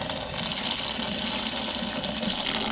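Rainwater pours heavily off a roof at an autumn campsite in Japan, a loud, continuous gushing rush with no break.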